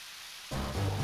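Rain in the video game Zelda The Minish Cap: a soft hiss that suddenly swells into steady, dense rainfall with a low rumble underneath, moderately quiet.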